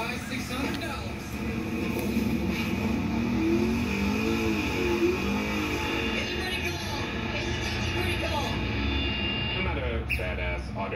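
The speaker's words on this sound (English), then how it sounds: "when you do a tire burnout, your tires should move, right?" A 2007 Corvette Z06 engine roars and revs steadily during a tire burnout attempt, loud and sustained throughout, with people talking over the engine noise.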